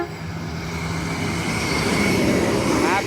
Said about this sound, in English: here is a Fremantle train actually, running express through